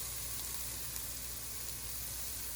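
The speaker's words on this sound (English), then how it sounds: "Look at that sizzle." Steady, dense sizzling of food frying in a hot pan, continuous and fairly close, with no voices.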